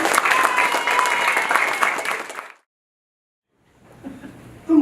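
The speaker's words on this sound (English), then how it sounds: "Everyone give them a round of applause." A crowd at a candidates' meeting claps loudly for about two and a half seconds before it cuts to silence, then faint room noise and a voice come in.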